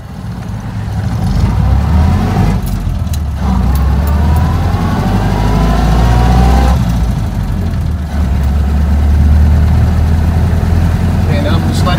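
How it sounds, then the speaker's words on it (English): A Ford Model A engine pulls the car up to speed, a loud, steady mid-pitched drone with road rumble and someone talking over it. "now I'm just letting the torque pull the car up to speed"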